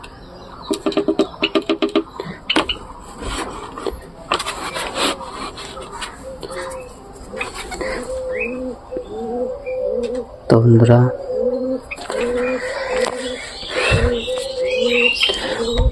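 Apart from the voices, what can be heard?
pigeons cooing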